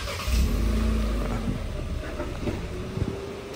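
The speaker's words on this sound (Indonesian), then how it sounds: "Nyalain mesin" A Kia Sonet engine starting and settling into a low idle, with a deep rumble and a brief rising rev near the start, recorded close with a steady hum.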